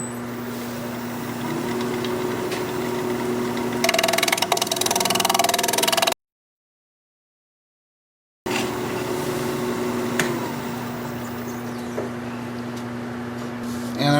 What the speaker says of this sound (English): I'm going to take my 1/2 inch standard grind bowl gouge and see if I can get in there and clean